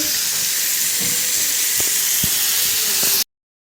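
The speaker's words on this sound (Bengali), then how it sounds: "এই তো এখানে রোস্ট ভাজা হচ্ছে।" A roast sizzles as it fries in a pan alongside potatoes, a loud, steady hiss held at close range with a few faint clinks over it. It cuts off abruptly near the end.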